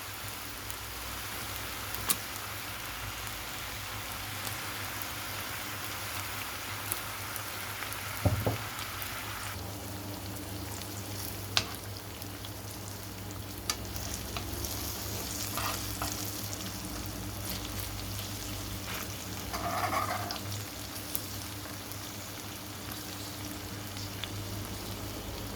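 Chicken tocino fries in oil in a pan with a steady, even sizzle and crackle, joined by a few soft scrapes and clinks of stirring, with no talking over it.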